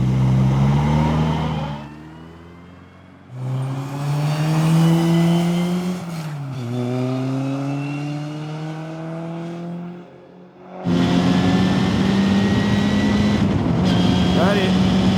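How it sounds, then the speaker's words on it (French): A small Ford engine in a vintage racing car idles and revs, its pitch climbing and dropping in several pulls separated by brief quieter pauses, close and loud. "Le son du petit moteur Ford."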